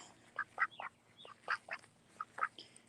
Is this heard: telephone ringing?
no